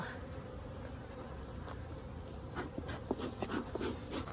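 Agitated honeybees buzz at a hive during a mite check, a faint steady drone with a few sharper close passes near the end and no speech.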